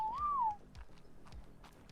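A single short rising-then-falling whistle command in the video game ARK: Survival Ascended, clear and close, followed by faint soft clicks and quiet background noise.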